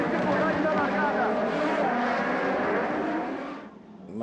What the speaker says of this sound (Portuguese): Os carros têm dificuldade na largada.